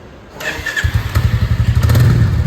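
A Royal Enfield Bullet motorcycle with an Indore silencer starts up close by and settles into a loud, rapid, even thumping idle.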